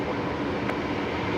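A Qantas airliner on flight 943 to Perth takes off from Brisbane Airport, a steady, loud broadband jet roar heard briefly and continuously.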